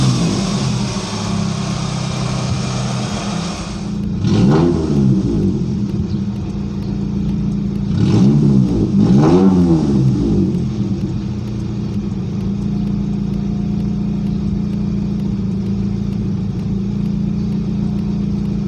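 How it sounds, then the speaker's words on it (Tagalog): A car engine with a persistent misfire after new spark plugs and a refitted distributor cap runs loud and close with an uneven, stumbling idle, then is revved up several times in short rising bursts before settling back. "May palya pa rin siya."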